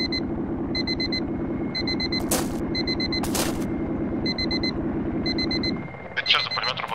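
Rapid, continuous helicopter machine-gun fire in ArmA 2 rattles steadily for several seconds, with repeating electronic beeps layered on top and a couple of sharp bursts near the end.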